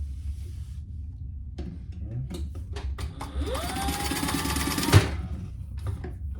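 A sewing machine runs a basting seam on tote bag fabric pieces, starting with a few short stitch bursts, then speeding into a steady whirring run that stops with a clunk, followed by more scattered mechanical taps.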